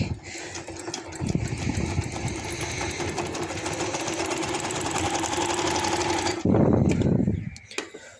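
A sewing machine runs steadily, top-stitching lace onto fabric in a long continuous burst of rapid mechanical stitching, then stops briefly and restarts near the end.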